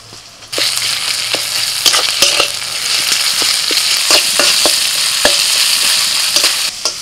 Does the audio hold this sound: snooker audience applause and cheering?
no